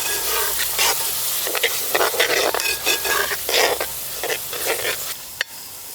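Kerala fish masala simmering in a pan after coconut milk is added, with a steady close sizzle and bubbling under irregular stirring scrapes, then a sharp clack near the end.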